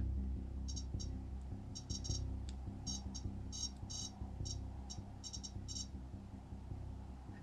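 A ghost-hunting device in a barn in an abandoned ghost town gives off short electronic beeps in irregular bursts and clusters, fairly clear over a low background hum.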